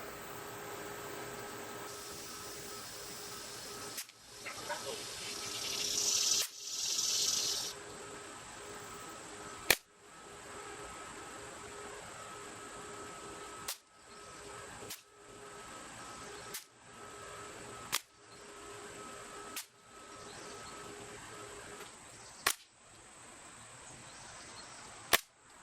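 Crosman 1077 AS air rifle firing pellets at a target, a series of sharp, spaced single cracks, about eight shots with pauses between them, over quiet outdoor background.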